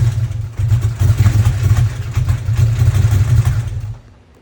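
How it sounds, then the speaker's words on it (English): A Porsche 964 flat-six idling with a misfire, a loud, close, uneven low chugging that stumbles irregularly before cutting out and fading near the end. "Clearly, the engine is now misfiring."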